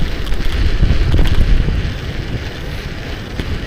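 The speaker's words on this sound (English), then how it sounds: "Keep in mind, the wind is blowing into me at 40 kilometers an hour." Strong wind buffets the microphone on an open-road ride at about 40 km/h, a loud, continuous low rumble that eases slightly in the second half.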